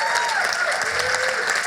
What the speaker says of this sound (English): Please, everyone, a round of applause for Amy.